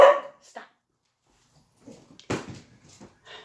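An older pet dog barks indoors in a few short, sharp bursts separated by quiet gaps, fairly close, with faint household movement between the barks.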